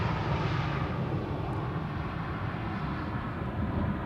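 A Transavia airliner arriving at Amsterdam Schiphol Airport after returning from Innsbruck, a steady broad jet engine roar held at a moderate, fairly distant level throughout.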